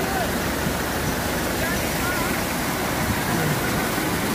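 A waterfall rushes beside a mountain track on the route to Ratti Gali after a cloudburst, a loud, constant broadband roar of falling water that stays close and unbroken from start to finish.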